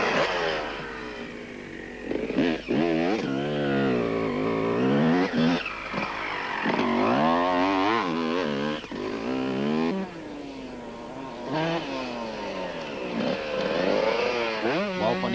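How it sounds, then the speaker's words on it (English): Honda 125 off-road racing motorcycles tear across the desert in the 1996 Toyota 1000 race, engines loudly revving up and down in repeated sweeping surges as bikes pass close. "Van Niekerk churned up the desert on his Honda 125."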